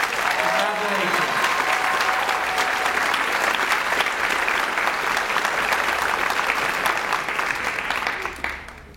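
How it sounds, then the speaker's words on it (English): Sustained audience applause for Student Leadership Award winners fills the room, a dense, steady clapping from a large crowd that runs loud throughout and tapers off at the very end. "One more round of applause for all the Student Leadership Award winners."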